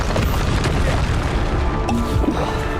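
A Bombarda explosion spell cast in Hogwarts Legacy, a dense booming blast rolling continuously at steady loudness amid layered game combat noise and effects.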